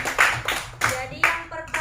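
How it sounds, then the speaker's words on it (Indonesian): Students in a school guidance class clap in short, irregular bursts, a few close handclaps mixed with voices. "Oke, tepuk tangan semua."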